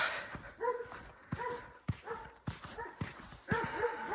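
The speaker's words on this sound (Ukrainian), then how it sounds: "Ой, мами, тут величезна собака." Large dog barking and yipping at a rural parents' home, several short sharp calls spaced across a few seconds, fairly close and moderately loud, with no talk over them.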